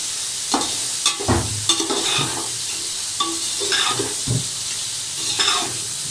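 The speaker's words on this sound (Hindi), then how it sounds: "ये शिमला मिर्च मैं इसमें ऐड करूंगा। और इनको मैं मिक्स कर लूंगा।" Carrots, potatoes and bell pepper stir-fried in a pan for chicken fried rice, with a steady sizzle under repeated scraping and stirring clatters of a spatula, close and alone.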